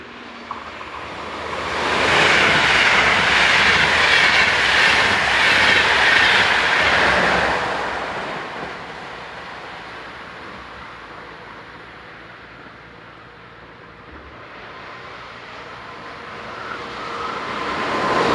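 German electric locomotive 101017 rushes past in the opposite direction to 101111 on the Bremen to Hannover line, a loud close roar with clattering wheels that builds quickly, peaks, then fades into a distant rumble.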